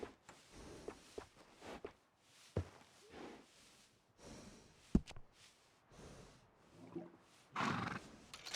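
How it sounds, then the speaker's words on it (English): A horse in Red Dead Redemption 2 whinnies and snorts several times in bursts, with soft hoof shuffles in between and a louder neigh near the end, alone without talk. "You got yourself a deal. And a fine new horse."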